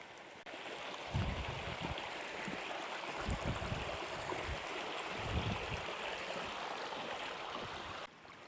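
Close, steady rush of a stream at a crossing on a hiking trail, a broad watery hiss filling the whole clip with occasional low thumps, no talking.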